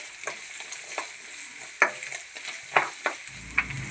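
Potato, carrot and other vegetables frying in hot oil in a kadai, a steady sizzle broken by several sharp scraping stirs of a spoon against the pan.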